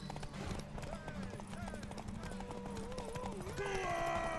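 Galloping horse hooves in The Witcher 3: Wild Hunt, a black horse ridden in-game, steady rapid clip-clop under game music and a person talking throughout.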